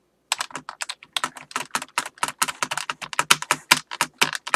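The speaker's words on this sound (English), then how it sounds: "I'm spamming the space bar if you can't tell! I'm gonna break my keyboard!" A computer keyboard's space bar is hammered rapidly during a Roblox Flood Escape session, giving a fast, uneven stream of loud, close clacking keystrokes with no talking.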